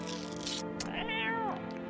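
A cat in a video game meows while being fed canned food, a clear pitched meow rising and falling over a steady musical background, with brief clicks before it.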